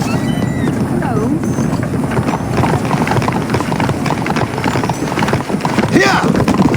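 Horses' hooves clip-clopping in the video game Red Dead Redemption, a busy patter of hoof steps under a constant windy ambience, with a brief whinny-like cry near the end.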